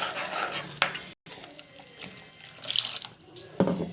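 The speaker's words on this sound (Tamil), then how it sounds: "புளி கரைச்சி தண்ணி ஊற்றிக்கணும்" Tamarind water is poured into a cooking pot for kara kuzhambu curry, running and splashing steadily, a continuous rushing flow with a brief gap and a few clinks, nobody speaking.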